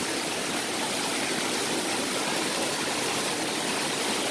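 Water of a small stream in Guatemala flows between stones with a steady, dense rushing and gurgling wash that holds even and close throughout, with no voices.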